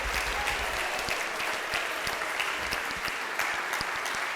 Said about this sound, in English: Can we please give a round of applause for Mayor Baraka?